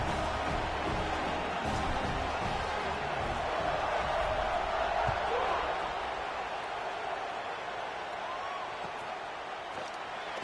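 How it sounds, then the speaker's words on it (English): A football stadium crowd roars after a touchdown drive in a Big 10/SEC challenge game against Arkansas, a broad, steady wash of cheering that fades slightly toward the end, with an announcer talking over it. "this crowd is feeling themselves after that last drive"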